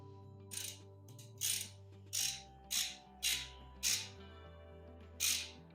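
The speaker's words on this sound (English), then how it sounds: "I'm going to take that, snug it up with my hand, take my 7/16 inch socket," A ratchet with a 7/16 inch socket snugs down a toilet bolt, giving seven quick, close clicking bursts spaced about evenly, with a steady low hum underneath and no talk.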